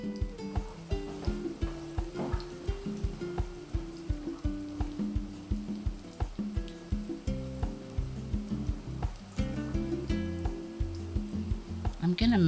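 Vegetables sauté in a pan for potato fritters: a continuous sizzle with repeated rhythmic scraping and stirring strokes, fairly close and steady.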